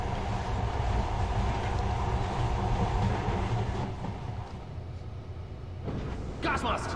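Moving rail car in the video game Metro 2033 Redux, a continuous heavy low rumble with rattling that eases midway and then picks up again, with voices faintly over it.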